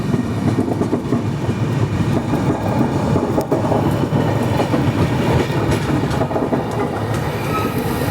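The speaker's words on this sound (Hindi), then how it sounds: "तो अभी हमारी ट्रेन स्किप कर दी है चंपा जंक्शन को।" Hazur Sahib Nanded–Santragachi Superfast Express heard from on board while running, with a steady loud rumble, rhythmic clickety-clack of wheels over rail joints and faint squeals, and no voices.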